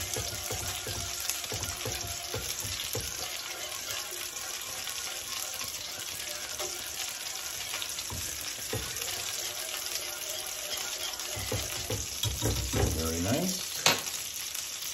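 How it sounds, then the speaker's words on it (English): Sour cream being whisked into a mushroom sauce in a pan, a steady close sizzle with continuous scraping and stirring strokes throughout, briefly louder near the end. "Okay, for our sauce, I'm going to whisk in 1 heaping tablespoon of sour cream."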